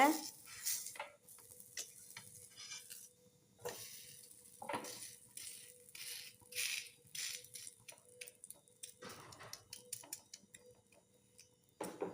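A ragi (finger millet) laddu mixture is stirred and turned over in a frying pan, giving soft scraping strokes and light sizzling at close range, with quiet gaps between stirs.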